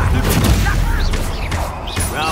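Bombarda spell blasts in Hogwarts Legacy gameplay: heavy booming explosions with crashing debris, loud and continuous across the moment, with voices speaking over the chaos.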